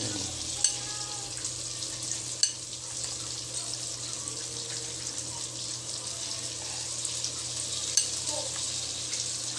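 Eggplant frying in a pan makes a steady, soft sizzle that runs the whole time, with a few brief clinks from a utensil and no talking over it.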